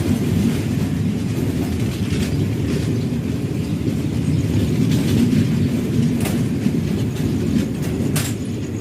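Passenger train on a Ledo to Guwahati journey rumbles along from inside the coach, a steady loud roar with faint rhythmic wheel clatter and occasional sharp clicks, no talking.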